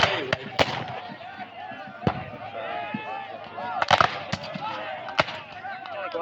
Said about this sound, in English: guns begin to fire